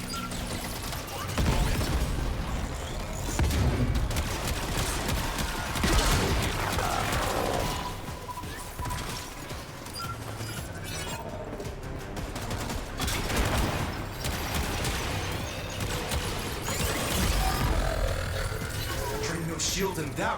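Rapid gunfire blasts away at enemy shields in the Warframe video game, dense bursts of shots and mechanical clatter repeating throughout, loud and close, with game effects layered over it.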